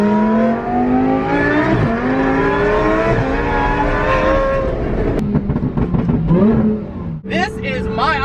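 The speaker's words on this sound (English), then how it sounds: "That Murcielago sounds so ridiculous." A Lamborghini Murcielago V12 drives by with a loud, sustained engine roar that climbs and falls in pitch, ending with a sharp burst near the close, and people talk over it.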